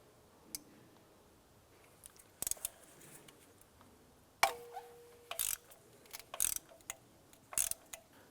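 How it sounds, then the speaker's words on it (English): A 14mm deep socket on an extension loosens a spark plug on a 2008-2013 Nissan Rogue, giving sparse metallic clicks and ratcheting bursts spread across a quiet stretch, several sharp close taps with brief mechanical rattles between them. "Using a 14mm deep socket and extension, go ahead and loosen that spark plug."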